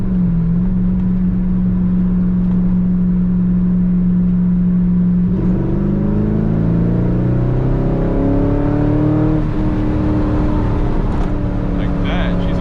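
Manual Corvette C5 engine droning steadily at speed on rough backroads, then rising through the revs with climbing harmonics as it accelerates, loud and close from inside the cabin with constant road roar.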